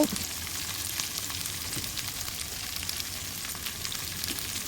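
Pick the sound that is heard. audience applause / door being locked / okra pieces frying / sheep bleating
okra pieces frying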